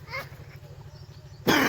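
A cough from someone with a cold, heard outdoors in open countryside: a single sharp, fairly close burst at the end of a quiet stretch.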